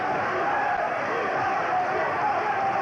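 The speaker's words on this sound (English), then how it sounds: "the crowd rooting for the champion" Boxing-arena crowd roaring for champion Julio Cesar Chavez during a 1986 bout, a dense, continuous cheer and hubbub filling the hall at steady loudness.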